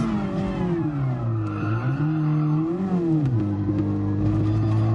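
A Super Formula race car engine in the GT Sport racing game whines loud and close, its pitch rising and falling with repeated revving and gear changes.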